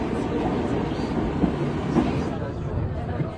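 A Baku subway train runs with a steady low rumble and faint rhythmic rail clatter, heard from inside or near the moving car.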